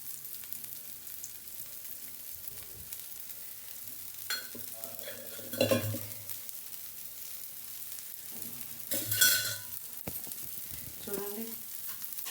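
A dosa fries in oil on a hot pan with a steady close sizzle, broken by a few scraping and stirring sounds, while a voice speaks quietly underneath.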